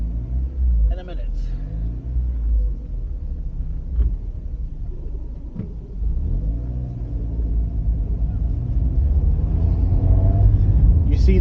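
A car travels along the A77 between Girvan and Ayr, its engine and road noise a steady close rumble throughout, rising slightly toward the end, with someone talking over it.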